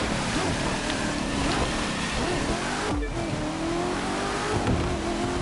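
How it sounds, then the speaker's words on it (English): Chevrolet cars race in The Crew 2, their engines roaring and revving continuously at close range under rushing wind-like road noise, with a brief dip in the middle. "Two Chevys leading the pack."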